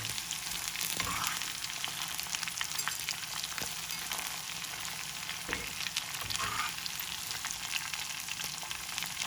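Pieces of mutton liver fry steadily in hot oil, a continuous close crackling sizzle with a few brief louder pops and stirring knocks, no voices.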